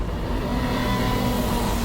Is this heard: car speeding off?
yes